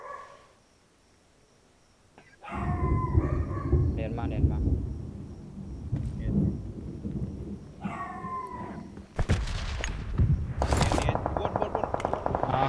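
Rapid bursts of PUBG gunfire and explosions, loud and close, over a busy mix of game sounds and talk, after a quiet opening.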